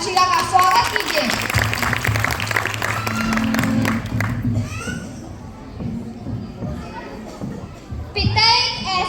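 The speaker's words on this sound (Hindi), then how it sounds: "तो एक बार जोरदार तालियों से अंशिका का स्वागत कीजिए।" School annual fiesta audience clapping to welcome a young performer, loud crowd applause and children's voices at the start, fading into a hall murmur before another burst of noise at the end.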